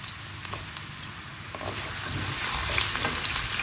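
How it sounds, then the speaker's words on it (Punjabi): Ginger sizzling in hot oil in a pan for a raw turmeric gravy, a steady crackling fry that grows a little louder, with no talk over it. "ਜਿੰਨਾ ਕੁ ਗਰਮ ਤੇਲ ਹੈਗਾ ਉਹਦੇ ਵਿੱਚ ਪਾ ਰਹੀ ਆ ਮੈਂ ਅਦਰਕ"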